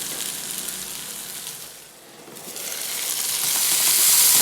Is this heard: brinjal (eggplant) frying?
yes